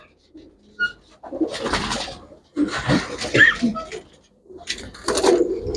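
Domestic pigeons kept by a fancier give several bursts of cooing and rustling close by, separated by brief quiet gaps.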